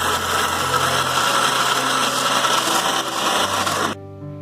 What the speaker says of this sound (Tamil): இப்போ ஒரு மிக்ஸி ஜாருக்கு இதை மாத்திட்டு இதை நல்லா துவையல் பதத்துக்கு அரைச்சி எடுத்துக்கலாம்.